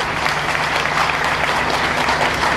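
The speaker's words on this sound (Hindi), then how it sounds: "आप तालियों से स्वागत करना न भूलें।" A gathered audience at a Gou Katha event applauds to welcome a speaker, loud continuous clapping from many hands filling the space evenly.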